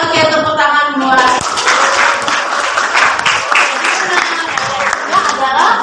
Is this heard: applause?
yes